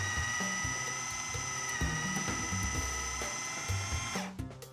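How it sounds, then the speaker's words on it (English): A food processor runs at low then high speed, making a steady, close mechanical whir that holds level for several seconds before cutting off abruptly near the end; no one speaks. "Turn on the food processor on low at first, then high."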